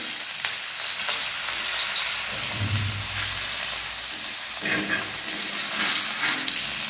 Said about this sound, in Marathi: छान असं तळून घ्यायचे बारीक गॅसवर एकदम